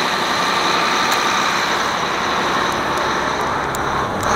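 A truck engine runs steadily close by, a loud, even broadband drone with a constant hiss and no variation in pace across the whole stretch, while the air system charges.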